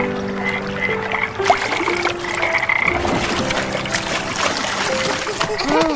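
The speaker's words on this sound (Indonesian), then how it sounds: "Pergi tangkap katak." A chorus of frogs croaks repeatedly and fairly close in a cartoon setting, mixed with water trickling and background music, while children talk over it.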